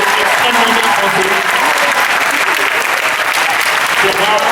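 Dense, sustained applause fills a panel hall at a Paris manga convention, loud and close, holding steady from start to finish.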